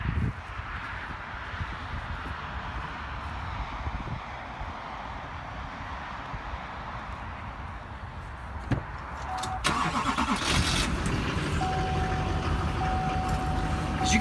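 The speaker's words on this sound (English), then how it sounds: "As you can hear, this thing's got a great engine." A quiet engine hum gives way to a 2005 Chevrolet Duramax diesel pickup truck cranking and starting, then a louder steady idle with a faint whine.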